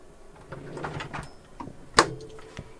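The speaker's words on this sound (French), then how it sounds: "Une deuxième sorte de poignée pour ouvrir les tiroirs." A drawer in a Hymer camper van is pulled open by its handle, giving a short sliding rumble and a single sharp click or clack near the end, close and fairly quiet.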